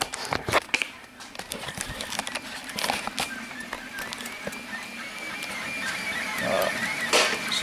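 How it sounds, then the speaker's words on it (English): Anycubic Linear delta 3D printer running, with a steady mechanical whirring and rapid clicking, ticking motor movements close by, punctuated by sharper taps and a faint voice in the background. "This is a Delta printer. It's the anycubic linear."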